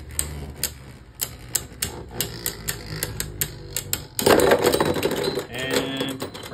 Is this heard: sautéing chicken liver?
no